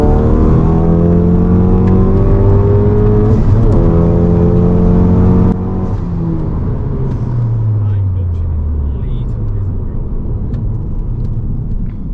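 500 bhp VW Golf GTI accelerating hard in third gear, heard from inside as a loud, steady engine drone that rises in pitch, then a sudden drop and change in tone at a shift, with the revs falling away afterward.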